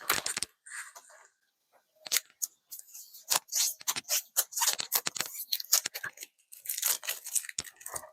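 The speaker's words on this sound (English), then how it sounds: "I'm going to unwrap it, clean it up a little bit," A Sig Sauer P226-XFIVE pistol from the Sig Reserve Collection is unwrapped from its shipping packaging: a close, continuous run of sharp crinkling, tearing and rustling bursts with brief pauses, no talking.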